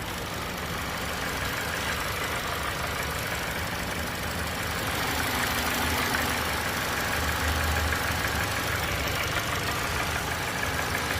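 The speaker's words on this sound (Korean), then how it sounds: "엔진 소리도 조용하죠." A Genesis G80 2.5 turbo gasoline AWD car engine idles quietly and evenly, a low steady hum with no voices.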